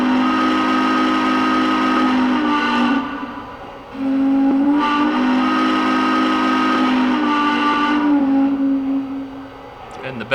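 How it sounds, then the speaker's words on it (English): Lionel model train steam whistle on a Frisco locomotive, a loud sustained harmonic chord blown in several long blasts with brief dips between them, close up and with no talking. "We'll go ahead and listen to the Frisco's whistle."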